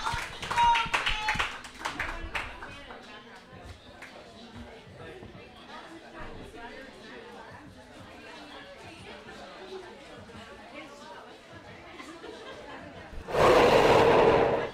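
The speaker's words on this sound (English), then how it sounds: "Give yourselves a huge, huge, huge round of applause." An audience at a comedy show claps and chatters loosely, with scattered hand claps and murmuring voices that swell into a loud, dense burst of applause near the end.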